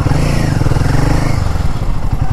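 A Royal Enfield Himalayan 450 motorcycle engine chugs at a roadside dhaba food stop, with a close, loud, steady low-pitched thumping idle throughout.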